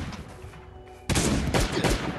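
Shotgun blasts in the survival game Last Day on Earth: Survival. A quiet stretch is broken by a sudden loud, close shot, and two more heavy blasts follow at short, uneven intervals.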